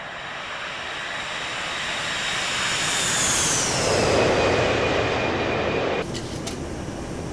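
Boeing 737-200 jet sweeping past in a flight simulator game, a loud continuous engine roar that swells with a descending whine as it passes, then cuts off abruptly near the end.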